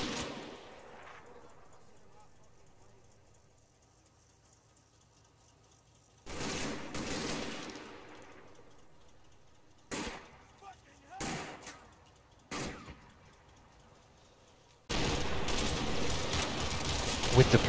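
Military gunfire as a platoon section comes under attack on the right flank: sharp broadband bursts and volleys break out intermittently, then a sustained heavy barrage near the end, over a low background rumble.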